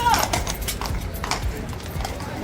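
A royal guard's horse clip-clops along, its hooves giving a quick series of light, irregular knocks. A voice talks over the sound.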